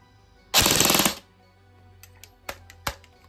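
Airsoft gun on full auto with a 50C battery, one loud rapid burst lasting about half a second, followed by a few sharp clicks and rattles.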